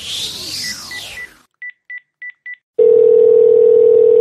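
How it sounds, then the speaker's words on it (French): Telephone dialing: a descending sweep, then four short, evenly spaced DTMF key beeps, followed by a loud, steady dial tone that holds to the end. No one speaks. "j'attends pour parler au téléphone à une madame du gouvernement"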